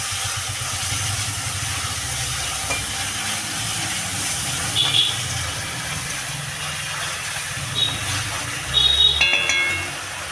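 Spices sizzling steadily in hot oil in a pan for a potato and paneer curry, a continuous close hiss with a few light clinks of a stirring utensil against the pan.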